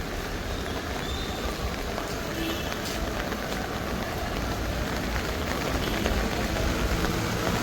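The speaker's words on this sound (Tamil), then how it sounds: "பாருங்கோ எப்படி மழை பெய்து கொண்டிருக்குன்ட்டு" Heavy rain pours steadily in Jaffna during the festival season, a dense, constant hiss of water drumming on surfaces with no break in intensity.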